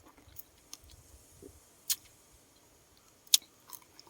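Grapes dipped in fermented fish sauce being bitten and chewed close up, a few sharp crunchy bites standing out over soft, faint mouth sounds, with no talking.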